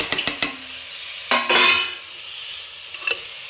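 Chicken meat and ground black pepper going into a pot for a stew, with a quick run of metallic clinks, a scraping tumble as the meat drops in, and a faint later clink, all close and without talk.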